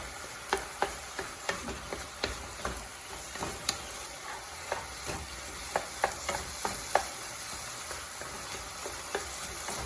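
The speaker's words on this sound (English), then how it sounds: "I'm just gonna let this kind of cook in its own moisture for a little bit" Taco filling cooking in a pan in a home kitchen, a low continuous sizzle dotted with sharp crackling pops at irregular intervals, with no talking.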